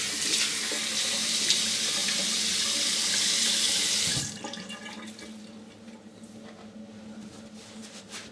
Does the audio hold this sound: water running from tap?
yes